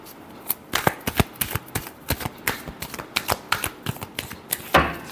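Tarot cards being shuffled by hand in a string of quick, crisp riffling bursts, each a sharp flutter of card edges, close and fairly loud, with a heavier rustle near the end.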